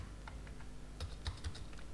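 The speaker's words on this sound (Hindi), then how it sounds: "मैं यहाँ पे एंटर दे देता हूँ इस तरीके से" Computer keyboard in a coding session, a few light keystrokes clicking at uneven intervals over a steady background hum, with a couple of firmer presses near the end and no talking.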